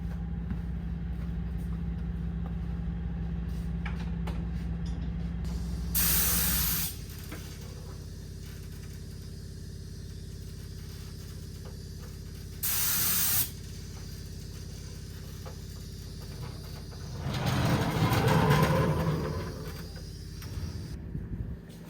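Clear coat sprayed from an aerosol can onto a car headlight during a DIY restoration, heard as a steady hiss that cuts off abruptly. Two further short sprays follow, each a second or less, and then a louder rustling stretch comes near the end.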